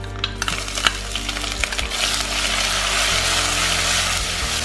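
Small onions frying in hot oil for a dish made from leftover idiyappam batter: a few metallic clinks of stirring at first, then a continuous loud sizzle and hiss.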